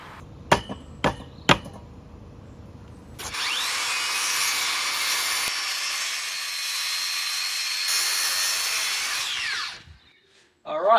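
Power saw cutting a taper on wooden bench legs: a few sharp knocks, then a loud sustained whining cut lasting several seconds that winds down, close up.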